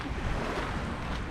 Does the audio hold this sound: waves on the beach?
yes